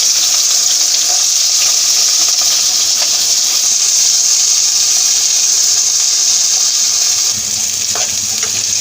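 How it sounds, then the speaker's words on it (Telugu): Pieces of nalleru (veld grape) fry in sesame oil, giving a loud, continuous hissing sizzle close up that stays steady throughout. "ఇప్పుడు నల్లేరు ముక్కలు వేయించడానికి కొద్దిగంత నువ్వుల నూనె పోసుకోవాలండి."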